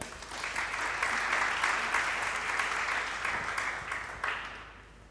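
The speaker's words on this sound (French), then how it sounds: "On peut acclamer le Seigneur?" A church congregation claps and cheers steadily for about five seconds, a dense, loud wash of applause that holds level and then tapers off at the end.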